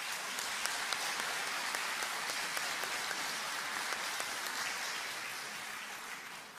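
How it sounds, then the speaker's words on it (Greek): Applause from an audience in a Megaro Mousikis concert hall at a village association's performance, a dense, even roar of clapping heard from a distance that slowly fades toward the end. "θέλω να σας παρακαλέσω ένα χειροκρότημα για το Θύμιο"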